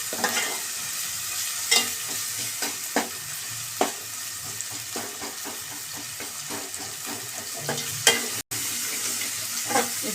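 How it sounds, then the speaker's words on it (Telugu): Tomatoes and ginger paste fry in a pan with a steady low sizzle while a spoon scrapes and stirs in repeated soft strokes, close up and without talk. "ఈ అల్లం పేస్ట్ ఇవన్నీ వేసినాక మనం కలుపుతూ ఉండాలి"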